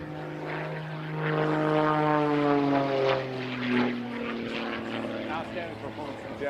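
Extra 330 SC propeller aerobatic plane flying snap rolls, a hover and torque roll at a national aerobatics competition, its engine droning with rising and falling pitch as it maneuvers at moderate distance, with a commentator talking over it.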